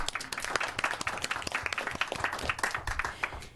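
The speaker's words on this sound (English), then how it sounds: "And we'd like to give you a round of applause." Meeting attendees giving a round of applause for a guest doctor, with brisk, scattered clapping from a modest crowd holding at even strength for a few seconds.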